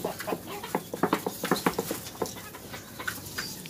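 Chickens cluck in a rapid, irregular series of sharp calls at close range as leftover grain and dal are scattered for them, with no talk.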